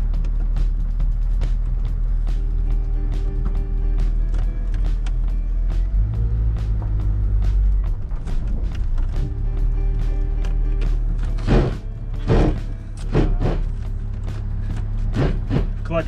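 The engine of a 1987 Chevrolet Chevette with a manual transmission runs while driving, giving a steady low hum that shifts in tone midway, with a few sharp knocks and clatters near the end.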